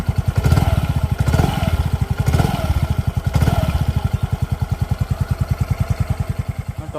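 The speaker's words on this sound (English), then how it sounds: "This is how the exhaust sounds." Yamaha Ray ZR 125cc scooter with a steady, rapid exhaust putter at idle and light throttle, close and loud, with a few brief swells in revs over the first few seconds.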